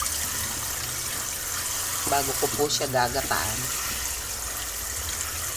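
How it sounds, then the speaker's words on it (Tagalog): Raw chicken is washed under a running kitchen tap before boiling, a steady wash of flowing water that continues beneath a short stretch of speech in the middle. "Hugasan ko yung chicken para papakuluin ko muna yung chicken"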